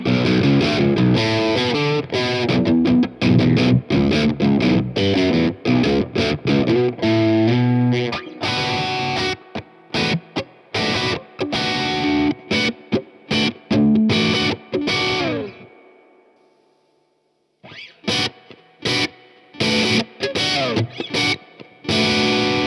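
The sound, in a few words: electric guitar through tube overdrive pedal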